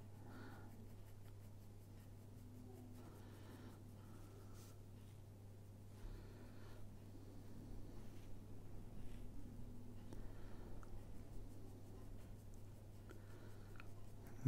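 Soft, scratchy strokes of an HB pencil shading on paper, small tapered marks repeated in a quiet, close, irregular rhythm over a low steady hum.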